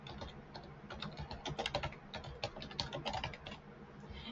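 Fingers typing on a computer keyboard, a brisk, close flurry of clicks and key taps with a few slight pauses, no voices.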